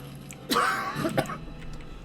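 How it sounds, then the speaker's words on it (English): A single throaty cough or throat-clear, fairly close and moderately loud, followed by quiet room background. "Sorry about my cough."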